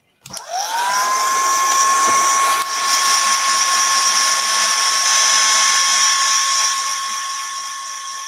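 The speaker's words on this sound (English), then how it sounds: "I'm going to give that a little bit of a blast dry." A handheld dryer blows a blast of air over wet paint, starting with a quick rising whine and then holding a loud, steady high-pitched tone with a broad rushing hiss. It stays close and continuous throughout, with no voices.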